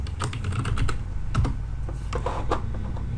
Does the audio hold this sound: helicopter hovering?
no